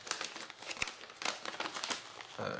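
Crinkly plastic wrapping on a Magic: The Gathering Oath of the Gatewatch intro pack crackles and tears as it is pulled open up close, in several bursts of crumpling.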